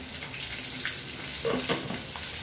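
Marinated tuna meat fries in a pan, giving a steady close sizzle with brief stirring scrapes and pops partway through and no speech.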